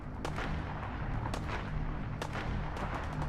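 Gunfire from a crowd of attackers shooting at the museum in the video game Fallout 4, heard as repeated sharp cracks over a steady low rumble of ambience, with several distinct bursts spread through the moment.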